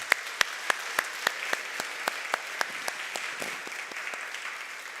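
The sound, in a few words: applause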